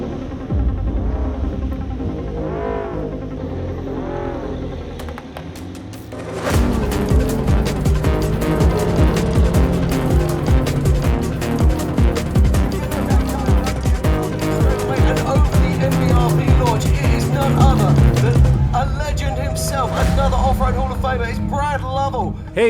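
Ford Bronco stock-class off-road race trucks at King of the Hammers throb and roar across rough terrain. The engines grow louder and busier partway through, under steady commentator talk.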